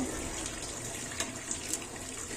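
Boiled spinach is lifted and strained out of hot water, giving a soft, steady trickle and splash of draining water with a few brief drips.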